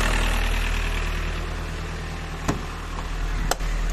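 A 1.9 TDI diesel car engine with a turbo cut-out fault idles close by with a steady low rumble, broken by two sharp clicks or knocks.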